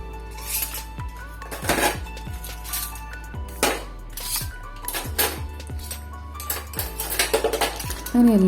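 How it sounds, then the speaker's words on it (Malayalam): Washed steel dishes and pots are lifted and set down in a home kitchen, giving scattered clanks, clinks and rattles of metal at irregular intervals, close by with no talking. "തലേന്ന് രാത്രി കഴുകി വെച്ച പാത്രങ്ങളൊക്കെ അതിൻ്റെ സ്ഥാനങ്ങളിലേക്ക് എടുത്തു വെക്കും"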